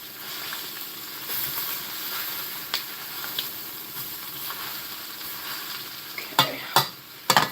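WW1-style corned beef hash cooking on low heat in a pan, a soft continuous sizzle with occasional light clicks and a few sharper utensil knocks toward the end.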